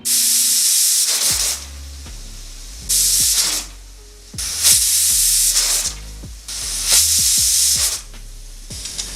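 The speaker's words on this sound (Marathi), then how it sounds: "आता कुकरच्या चार शिट्या झाल्या आहेत" A pressure cooker on a gas flame, cooking a goat's head, whistles and vents steam in several loud, long hissing bursts separated by short quieter gaps.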